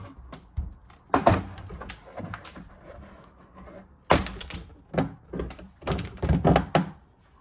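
Plastic trim panel pulled free from the tailgate of a 2010-2015 Toyota Prius, giving several sharp thunks and snaps in separate bursts, close and loud with quiet gaps between.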